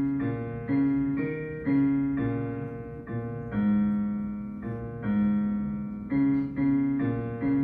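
A simple piano tune with steady melody notes over a sustained lower accompaniment, played at moderate volume with no voices.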